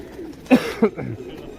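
Pigeons kept for flying give two short, throaty coos close by, followed by a softer trailing coo, against a quiet background.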